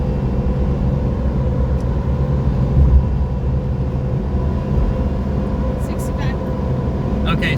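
A Mitsubishi Pajero Mini kei car engine revs near 5,000 RPM at about 60 on a downhill stretch, a loud, steady droning rumble heard from inside the cabin with road noise and someone talking over it.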